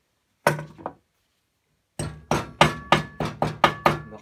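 Metal sill trim clips from a Citroën 2CV are hammered straight in a vise: two quick taps, a pause, then a steady run of seven sharp metallic strikes, close and clear, with no talking.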